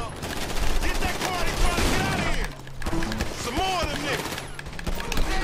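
Gunfire rattles through a firefight in the video game Grand Theft Auto 5, repeated shots and bursts layered with other game noise while excited voices talk over it.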